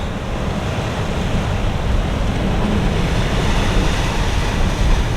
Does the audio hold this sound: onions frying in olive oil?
no